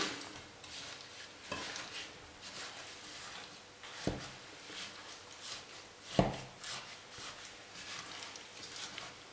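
Fig jam made from figs and sugar is stirred in a pot, a soft scraping swirl with occasional clinks of the spoon against the pot, faint and fairly close.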